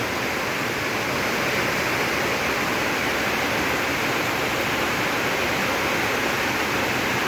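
Heavy rain pours down with water running and rushing in a dense, even, continuous wash at close range, loud and unbroken throughout with no talk.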